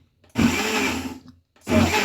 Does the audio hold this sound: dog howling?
no